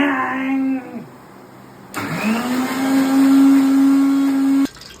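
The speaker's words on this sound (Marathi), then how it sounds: "नंतर मिक्सरला लावून घ्या, कारण ती पेस्ट करा." A kitchen mixer grinder blending roasted masala into paste whirs in loud, steady bursts, starting up with a rising whine, pausing briefly, then running at a constant hum before cutting off abruptly.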